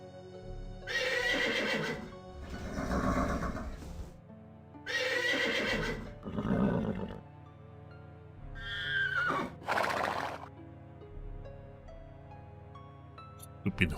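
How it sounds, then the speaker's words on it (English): Horses in The 11th Hour video game neigh and whinny repeatedly, loud drawn-out calls spaced across the clip over a low steady hum, with faint hoof clip-clops. "Stupid horse sounds."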